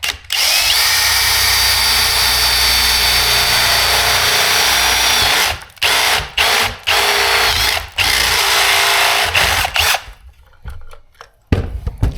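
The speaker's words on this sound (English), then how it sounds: "we'll go ahead and get to drilling" A power drill with a unibit step drill bit bores through a stock Chevy fuel pump basket, whining loudly and continuously, then stopping and starting in short bursts before quieting near the end.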